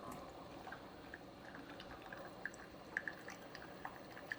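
Hot tea from a Lipton iced tea K-Cup brews through a Keurig K-Supreme or K-Elite coffee maker onto ice. The trickle is faint and continuous, with scattered small drips and ticks.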